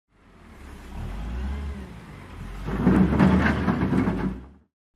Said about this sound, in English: wheel loader